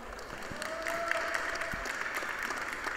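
Steady applause from a crowd at an esports tournament, continuous and fairly distant, with a faint tone running briefly through it.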